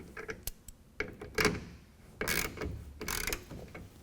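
A ratchet with a 1/2-inch socket tightens the set screws on a tonneau cover fitted to a 2012 Ford F150, giving a few sharp, close clicks and a scraping rasp in short bursts.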